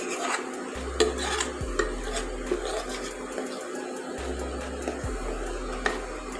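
Leftover rice being stirred into kheer in a pot, with soft rasping scrapes of a spoon against the pot bottom in an irregular rhythm over a low steady hum, close and fairly quiet.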